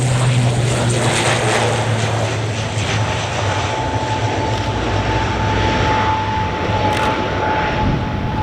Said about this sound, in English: Now the ATR family incorporates both the ATR 42 as the 72, made up of high-wing, six-bladed, twin-turboprop aircraft.